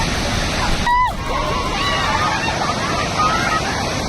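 A strong water current rushes steadily on a Rajasthan roadside flood scene, a loud continuous wash with a brief high honk-like tone near the start.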